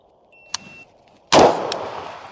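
A rifle shot fired from the ready position on a range cracks out sharp and loud, leaving a long ringing decay; a small click or beep sounds alone beforehand.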